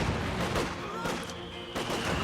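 Machine gun fire in the strategy game Company of Heroes 2: dense, continuous bursts of rapid gunfire layered with battle noise, loud and busy throughout, with a voice talking underneath.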